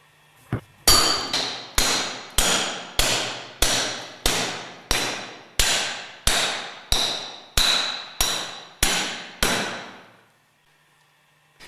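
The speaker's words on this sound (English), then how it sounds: "Carefully drive the grooved ball bearing with a suitable pipe up to the retaining ring." A hammer striking a pipe to drive a grooved ball bearing up to its retaining ring: about fourteen sharp, ringing metallic blows at a steady rhythm, each decaying briefly, close and loud, ending in quiet.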